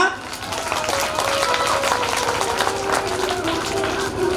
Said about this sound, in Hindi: जरा कस के ताली बजाना।